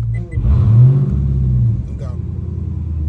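Dodge Challenger SRT Hellcat Widebody with a manual gearbox revs with the clutch in. The engine rumbles loudly from inside the car, with a rising surge early on that then settles into a steady idle. People talk over the engine noise.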